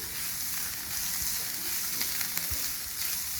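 Chopped carrot, added after green chilli, sizzles steadily in a hot pan for a Maggi noodle momo filling: a constant close frying hiss with faint stirring ticks.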